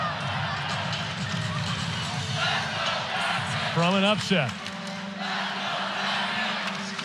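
Arena crowd at a Georgia vs Georgia Tech volleyball match cheers and roars steadily during a late Tech timeout, a dense loud wash of voices with a brief swell midway and a commentator talking over it.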